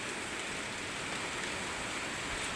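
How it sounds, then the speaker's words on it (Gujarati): Rain falling at night, a soft, steady, broadband hiss heard faintly and evenly throughout without talk. "વરસાદ ચાલુ થઈ ગયો છે હરખાઈનો."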